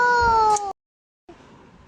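A cat gives one clear, drawn-out meow up close, then falls silent before a faint, quieter sound follows.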